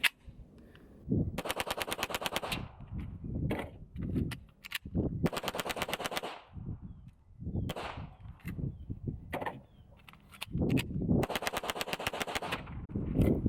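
Hi-Point JCP .40 pistol fired in rapid strings of closely spaced, loud gunshots, three bursts with pauses and scattered single shots between them, as at an outdoor range during a high-round-count endurance test.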